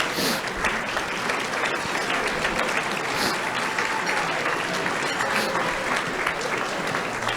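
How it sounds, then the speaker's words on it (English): Sustained applause from a crowd at a high school football banquet, honoring booster committee chairs, steady dense clapping filling the room for several seconds with faint voices mixed in. "Can y'all give them a round of applause?"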